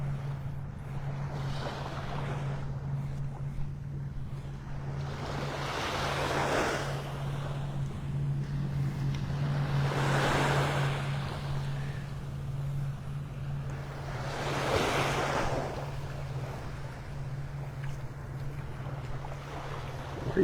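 Ocean waves roll onto the beach at Delnor-Wiggins State Park in North Naples, Florida, with a soft breaking surge about every four to five seconds under steady wind noise and a low hum.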